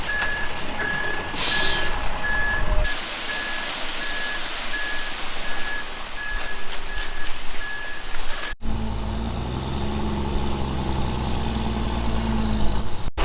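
A concrete truck backing up on a farm pour site, its reversing alarm giving a steady series of evenly spaced beeps over engine rumble, followed by a louder, lower idling truck engine.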